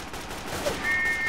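Dense machine gun fire in the World War I shooter Verdun, a continuous loud rattle of rapid shots over the whole short moment, with no one speaking.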